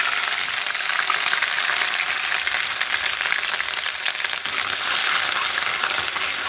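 Ginger garlic paste sizzles and fries steadily in hot oil for an Andhra-style egg and okra curry, a dense, continuous crackle at close range with no talking.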